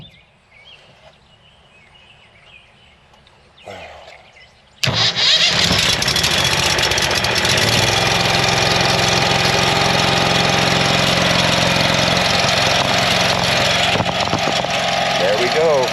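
A 23 hp Briggs & Stratton Vanguard mud motor cranks over after a few quiet seconds and catches, then runs loud and steady at idle with a faint rattle in the mix.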